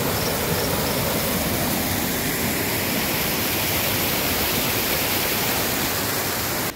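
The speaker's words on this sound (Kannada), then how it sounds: "ನೇತ್ರಾವತಿ ನದಿ" Steady broadband rush of the Netravati river flowing, a constant close roar of water with no breaks and no voices.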